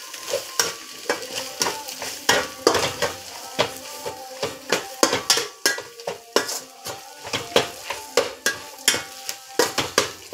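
A spiced fish mixture with added red chili powder is stirred in a pan, giving a steady run of sharp utensil scrapes and clinks against the metal over a soft sizzle, close and clear with no talking.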